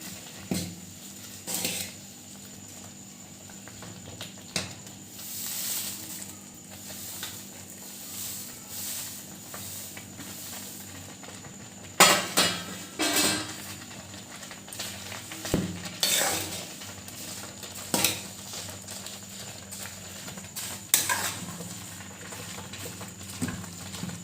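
A spoon scrapes and stirs beaten rice in a pan for a sweet, producing repeated soft scraping strokes and occasional sharp clinks against the metal over a faint background sizzle.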